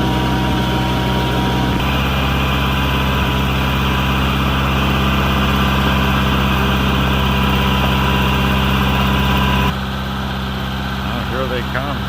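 A tracked vehicle's engine runs steadily at a low, heavy drone as it drives slowly up a hill on soft ground, close and unbroken, then drops somewhat quieter near the end.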